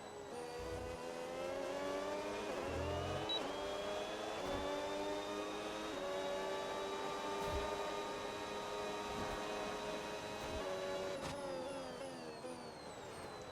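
A Red Bull Formula 1 car engine in the F1 26 racing game screams at high revs, its pitch climbing and dipping through gear changes, loud and continuous with no talking.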